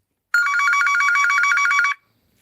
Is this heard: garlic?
no